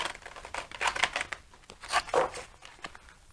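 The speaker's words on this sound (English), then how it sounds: "I like to shuffle on camera, just so you can see" Crisp shuffling of tarot cards in several quick bursts, a papery riffle and slide repeated close by, with short pauses between.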